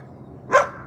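A black Labrador puppy gives one sharp, loud bark, close by, against a quiet background.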